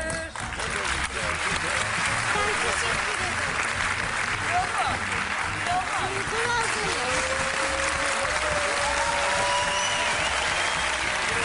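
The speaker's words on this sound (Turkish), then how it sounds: "Alkışlar" A large television studio audience applauds steadily and loudly for the whole stretch, a dense wash of clapping that never lets up.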